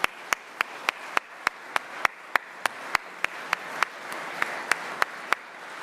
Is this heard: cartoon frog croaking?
no